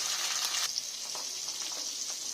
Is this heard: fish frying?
yes